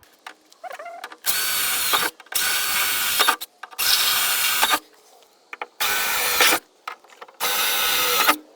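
Power drill boring holes through a repair panel in a Ford F150 door, five separate loud bursts of a few seconds each with short quiet gaps between them, close up.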